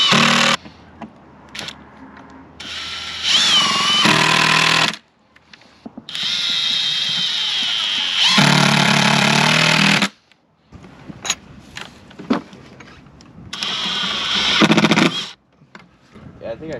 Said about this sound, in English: Now we'll run some screws in there.